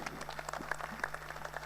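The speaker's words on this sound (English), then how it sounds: "Please let's give ourselves a round of applause." Audience applause at a national ICT week launch and technology forum, a steady patter of many hands clapping at moderate distance, fairly quiet, with a low electrical hum underneath.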